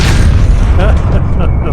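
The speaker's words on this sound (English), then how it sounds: "That's the explosion." A loud, close explosion in the Into The Dead video game, a heavy booming blast with rumbling debris that fills the whole moment, a voice reacting underneath.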